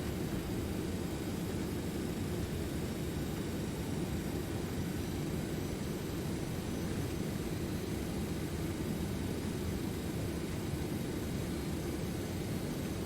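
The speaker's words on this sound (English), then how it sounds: "reversers engaged" A simulated Douglas DC-8 jet rolls out on landing with thrust reversers engaged, giving a steady, broad roar of engine noise that holds at an even level with no breaks.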